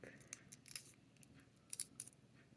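A salted egg being slowly peeled, its shell giving off small scattered clicks and crackling ticks, close and quiet with no talk.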